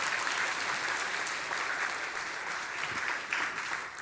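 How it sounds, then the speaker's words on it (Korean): A congregation at a Sunday morning church service claps together in a steady, full round of applause, dense and even throughout with no talk over it. "우리 박수 한번 칩시다"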